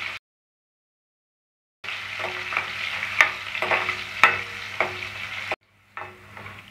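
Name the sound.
crushed garlic being sautéed and stirred in a pan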